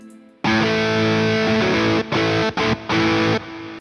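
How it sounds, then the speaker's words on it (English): A distorted electric guitar plays through a tube channel strip plugin. Sustained, thick chords ring loud and alone, cut by a few brief gaps near the end. "That tube channel strip is always having the signal from that guitar"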